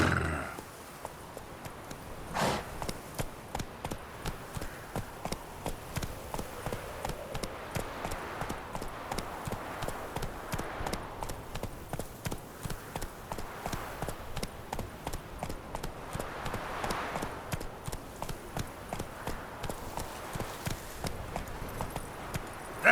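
Horse hooves gallop steadily through the entire stretch in The Witcher 3, a fast repeating clip-clop rhythm held close and loud, with a brief whinny-like burst near the start and no talk over it.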